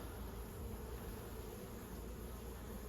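Honey bees hum in a steady, dense buzz around an open nucleus hive, a continuous close swarm drone without pauses or voices.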